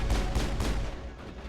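A grenade blast in the Mass Effect video game, a loud, dense boom with several rolling low thuds and crackling bursts in the opening second, decaying into a rumbling tail.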